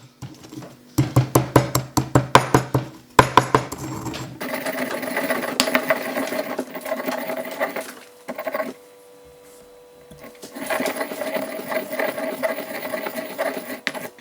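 An electric mixer grinder powders chopped ingredients, first in a quick series of short pulsed bursts, then in sustained whirring runs broken by a brief pause.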